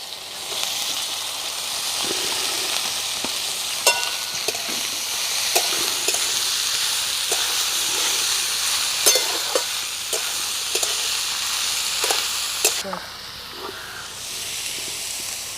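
Spices and boiled Malabar spinach fry and get stirred in a pan for a Bengali chachhori, a steady close sizzle and hiss broken by regular scrapes and knocks of the spatula, with no voices.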